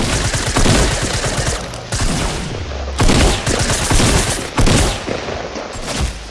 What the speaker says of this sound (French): Et ici on passe désormais au pistolet mitrailleur, enfin voilà, pour vous entraîner un peu au pistolet mitrailleur.